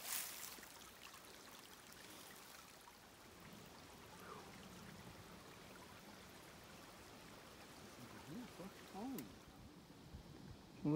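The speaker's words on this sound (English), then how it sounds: "The river runs through." A river runs beside a mountain single-track trail between Virginia Lakes and Silver Lake, its flow a soft, steady rushing wash under faint wind and scattered small knocks.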